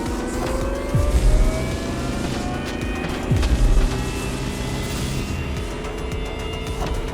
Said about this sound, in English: They are actually giving us a Lamborghini Terzo Millennio?